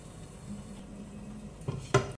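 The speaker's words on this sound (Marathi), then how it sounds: "आता एखाद मिनिट झाकून ठेवणार आहोत" A lid goes down onto a pan of broccoli rice with a sharp metallic clink near the end, after soft stirring and a faint sizzle.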